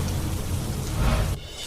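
Heavy downpour in Patan, a dense steady roar of rain close by that drops off abruptly near the end, with no voices.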